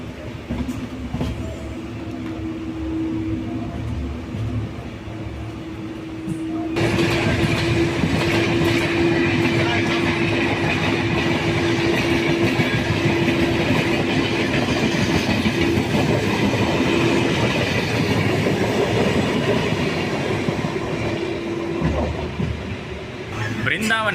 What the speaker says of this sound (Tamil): பிருந்தாவன் எக்ஸ்பிரஸ் இப்போ போச்சுல